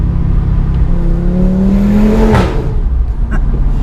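An Audi RS3 engine revving up loudly, pitch climbing steadily before a sharp gearshift drop, then continuing to pull; close and powerful.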